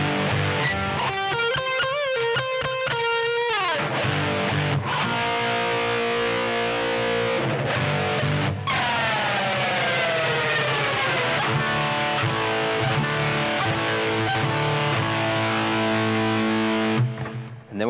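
Distorted electric guitar plays the solo breaks from a song, loud and continuous with fast picked runs, bends and crashing power chords, no voice.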